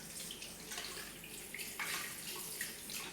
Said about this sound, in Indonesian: Kemudian kita bilas kembali dengan air mengalir.